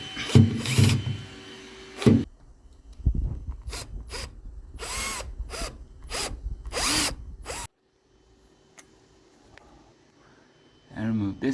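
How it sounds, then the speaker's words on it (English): A power drill removes screws in short, loud whirring bursts, each followed by a pause. Someone talks between the bursts, and the clip ends in near silence. "I will have to remove these screws, and we will do that right now."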